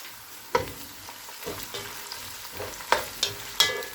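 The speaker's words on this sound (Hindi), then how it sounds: "एक से 2 मिनट तक अदरक को फ्राई करेंगे।" Chopped ginger fries with onion in hot oil, a gentle sizzle broken by a few sharp clinks of a spoon stirring the pan.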